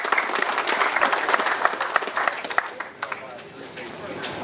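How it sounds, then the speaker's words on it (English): Audience applause fills a machine shop open house in New York City, a dense, steady patter of many hands clapping close by, with voices mixed in before it thins out toward the end. "So really, a round of applause for Chris and David, American Rotary."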